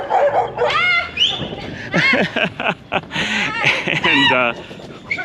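Several dogs bark and yip in quick, excited bursts nearby, mixed with chuckling and a few spoken words.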